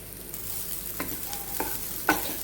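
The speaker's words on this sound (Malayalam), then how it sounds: "എന്നിട്ട് ഇതൊന്ന് ഫ്രൈ ചെയ്ത് കൊടുക്കാം." Raisins and grated coconut filling for stuffed banana fry in a pan with a steady soft sizzle, broken by a few light scrapes and taps of stirring.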